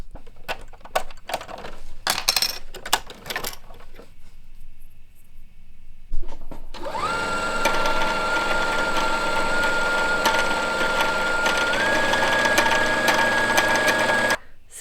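A sewing machine stitches fabric in a home sewing session: scattered clicks and handling noises come first, then the motor starts and runs in a steady, continuous buzz, changing pitch slightly before it stops.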